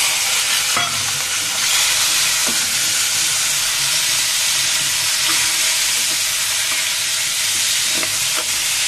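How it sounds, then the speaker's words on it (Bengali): Pointed gourd (potol) pieces frying in oil in a pan after potatoes, a loud, dense, continuous sizzle with occasional faint knocks of a spatula. "পটলগুলোকে আমি হালকা করে ভেজে নিব"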